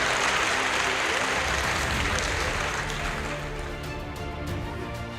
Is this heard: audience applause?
yes